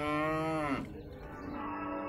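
A single long moo from a bovine at a cattle fair in Caruaru, Pernambuco, close and loud, with its pitch falling at the end before the low murmur of the fair takes over.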